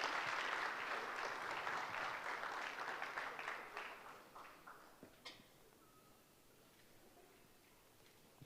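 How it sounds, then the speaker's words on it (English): Audience applause at a graduation ceremony, a dense sustained clapping that is strongest at the start and thins out into a few scattered claps before fading to quiet. "Please, a round of applause once again for my Vice Chairman."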